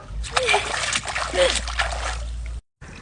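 Water splashes and sloshes as someone bathes in a pool, with repeated splashing close by and voices talking over it throughout.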